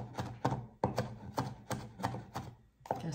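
Garlic is minced with a knife on a cutting board for Indonesian stir-fried noodles, a close, steady run of about ten sharp chopping thuds at an even rhythm, with no talking.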